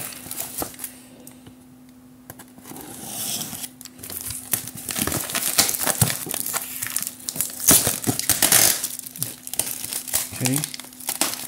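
Packaging for a Xiaomi Yi mirror dual dashcam is torn and crinkled open, loud close rustling, crumpling and ripping bursts that come and go, with a person talking at times.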